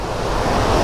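Stream water at Chilanthiyar waterfalls in Vattavada, Kerala, rushes in a dense, continuous roar, loud and close, with no voices.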